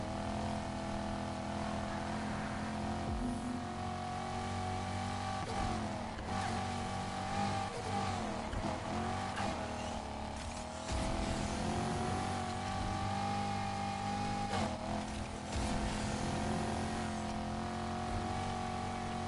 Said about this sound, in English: Each little boost of nitrous is adding to my speed.